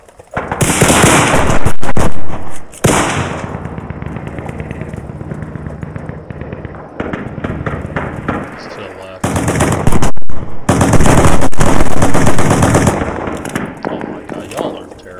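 Machine gun fire in a PC game roars in long, loud, rapid bursts separated by short gaps, with a sharp, crackling texture and some quieter stretches of background noise in between.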